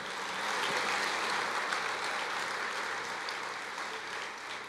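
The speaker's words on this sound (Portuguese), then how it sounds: "Então não acredite, pode aplaudir." A church congregation applauding together, a steady wash of clapping that holds at an even level, slightly muffled and spread out across the room.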